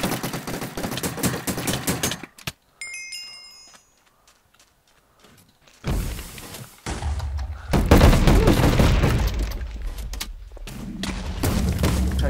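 Carbine gunfire from the CrackShot mod in a Minecraft multiplayer PvP match: loud bursts of rapid shots in the opening seconds, a quiet lull with faint clicks, then dense sustained firing returning and carrying through to the end.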